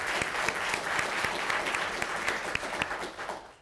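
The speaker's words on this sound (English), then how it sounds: "That deserves a round of applause." An audience applauds at a court recovery and treatment program graduation ceremony, a steady dense round of clapping that holds throughout and thins slightly at the end.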